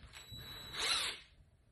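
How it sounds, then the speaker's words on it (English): A drill fitted with a barrel trimmer cuts the end of a wooden pen blank in one short, bright, whirring grind that rises and fades within about a second, with no talking. "I've already attached the barrel trimmer to the drill."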